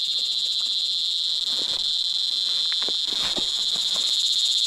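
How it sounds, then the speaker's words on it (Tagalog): A loud, unbroken, high-pitched trill of crickets at night fills the whole stretch, steady and close, with faint scattered ticks underneath and no voices. "Napakaingay po ng kuliglig,"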